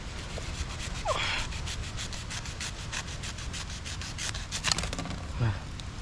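Bamboo shoots being cut by hand in a forest clump, heard as a steady rough rubbing and scraping close by, with brief sharper scrapes and a breathy sound near the end.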